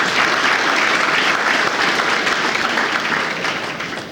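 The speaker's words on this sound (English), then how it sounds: "So nice round of applause for Anthony." A crowd claps steadily and loudly at a basketball banquet, sustained applause filling the room before tapering slightly toward the end.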